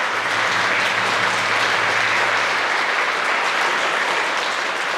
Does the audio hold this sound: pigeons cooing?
no